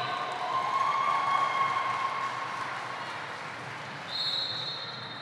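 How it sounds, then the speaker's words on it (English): Roller derby crowd clapping for the officials, a diffuse, moderately loud applause that tapers gradually, with steady tonal hum and a brief whistle-like tone appearing near the end. "Can I get our applause for our officials?"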